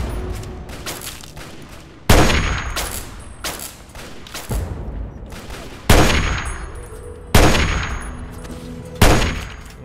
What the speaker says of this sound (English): He's firing at the mutants.